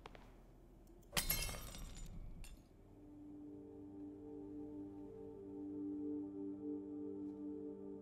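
Glass smashing in the video game Crime Scene Cleaner, one loud sharp shatter with scattered tinkling shards and a brief second clink, followed by a steady droning game ambience.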